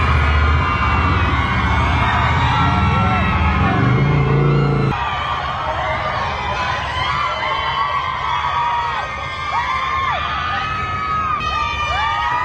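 A large crowd of fans outside a courthouse cheers and shouts steadily for Johnny Depp, with high excited voices rising and falling over a continuous roar and a low rumbling hum in the first seconds.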